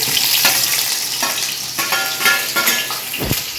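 Onion and green chili frying in a hot pan for fish pulusu, a loud steady close sizzle with a few spoon stirs and scrapes, no speech.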